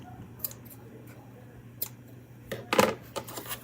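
Scissors trim yarn close by in a series of short crisp snips, sparse at first and then clustered near the end over faint background hum.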